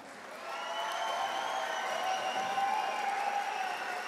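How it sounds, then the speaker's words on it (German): Boxing gala crowd in Gütersloh applauding the two fighters after a bout, a broad sustained roar of clapping and cheering that swells early and holds steady, with tonal ringing over it. "Meine Damen und Herren, nochmal Applaus für die beiden Fighter."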